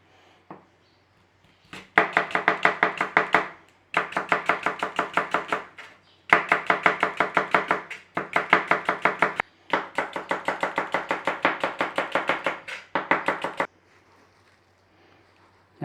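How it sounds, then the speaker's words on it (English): A knife chops leeks on a board for traditional Welsh Glamorgan sausages, in quick rhythmic bursts of close, crisp strokes separated by short pauses. "Okay, so we just need to chop our leeks."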